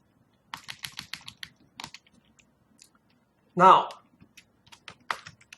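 Keystrokes on a computer keyboard come in quick, close clusters with pauses between them, while typing pseudocode. One short spoken word breaks in midway.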